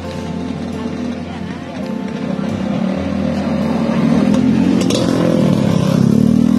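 Motorcycle engines rumble and rev nearby at Koh Samui Bike Week 2022, growing louder toward the end as the bikes pass, with voices murmuring in the background.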